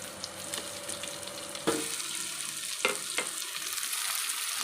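Onion frying in a pan, a steady broadband sizzle running throughout, with a few sharp utensil scrapes and knocks breaking through near and clear.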